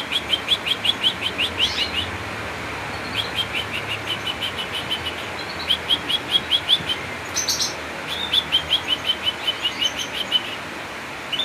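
Canaries in a breeding setup chirp in quick repeated bursts, bright trills recurring steadily throughout, with soft begging cheeps from chicks being fed, close and alone without voices.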